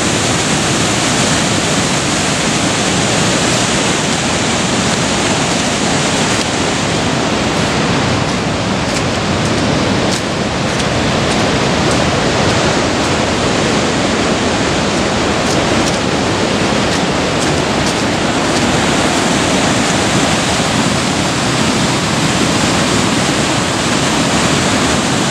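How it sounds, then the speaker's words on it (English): Loud, steady roar of Middle Falls on the Genesee River in Letchworth running high, a dense continuous wash of water noise filling the scene without a break. "middle falls showing a lot of water here."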